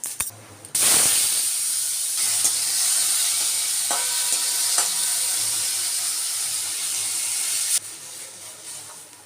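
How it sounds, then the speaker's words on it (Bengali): Mustard seeds tempering in a small amount of hot oil for a thin mango sour dish, giving a loud, steady sizzle and hiss with faint crackles that starts abruptly, runs for about seven seconds, then eases off. "সর্ষে ফোড়ন দিয়ে দিলাম"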